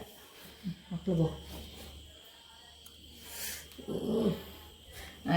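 A stray dog makes short, low growling and snorting sounds close by, in a few brief bursts separated by quiet stretches, with people's voices also present.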